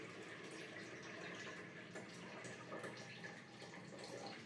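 About a litre of just-off-the-boil water pours steadily into a container to brew tea for kombucha, a continuous close splashing rush with no speech.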